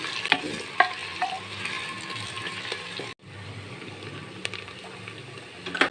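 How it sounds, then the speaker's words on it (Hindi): Steady sizzling of onions frying in hot ghee, a continuous crackling hiss with occasional sharp pops, briefly dipping midway. "प्याज को हम लाइट फ्राई करेंगे।"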